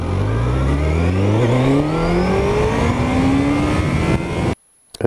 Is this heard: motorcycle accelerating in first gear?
yes